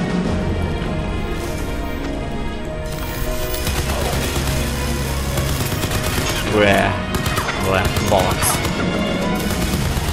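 Video game gunfire in Crysis 3: dense, continuous bursts of shots and rapid automatic fire with booming impacts, loud and up close, layered over music and game effects throughout.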